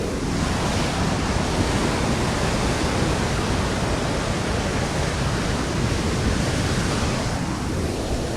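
Water pours out of the overflowing chasm spring at Fontaine-de-Vaucluse after heavy rain, a loud, unbroken roar of rushing water mixed with wind noise, with no voices.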